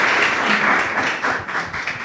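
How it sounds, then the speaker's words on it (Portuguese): Congregation clapping at a church service, a dense steady wash of many hands applauding close by for two seconds, loud and continuous without pause. "Palmas para o Senhor."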